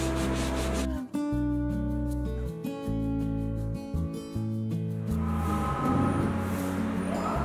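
Hand scrubbing of a gas stove burner gives a soft, steady rubbing and scouring texture, most noticeable toward the end, under continuous background music with sustained tones.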